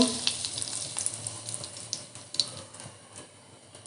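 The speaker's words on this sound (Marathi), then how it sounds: "कढईमध्ये तेल ॲड करते दोन ते तीन चमचे तेल ॲड करायचं आहे तेलावर हिंग" Oil heats in a kadhai as asafoetida (hing) is dropped in, giving a soft, crackling sizzle with scattered pops that rise and fade over a few seconds, and no voices are heard.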